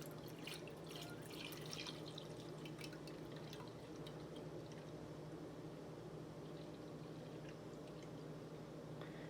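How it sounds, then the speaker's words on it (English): A steady, continuous pour of whole milk into an Instant Pot, with a constant low rush and scattered splashy drips, unbroken for the whole stretch. "So you pour whole milk in."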